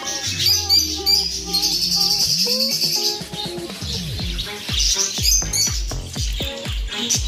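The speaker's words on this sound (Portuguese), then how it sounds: "eles vendem passarinhos" Small caged birds in a pet shop chirp, tweet and squawk in quick overlapping calls, busy and fairly close, with no voices over them.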